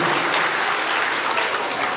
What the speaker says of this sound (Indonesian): Tepuk tangan yang meriah untuk Bapak Hendrik Sitompul.